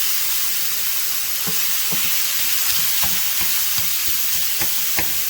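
Garlic and green onion sautéing in a pan, a steady loud sizzle with occasional soft stirring scrapes, close and continuous with no voices.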